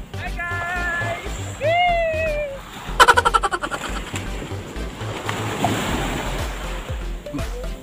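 Ocean waves at high tide on Silago Beach, a broad rushing wash of surf building in the second half, with brief bird chirps and a short rattling burst over it, no clear talking.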